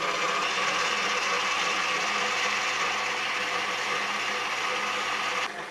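A stand mixer whips egg whites with cream of tartar into meringue at high speed, a steady, loud mechanical whir and rattle running unbroken throughout.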